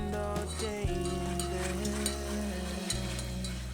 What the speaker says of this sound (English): gonna add our 2 minced garlic, 2 cloves of minced garlic. I'm just gonna cook that for maybe 30 seconds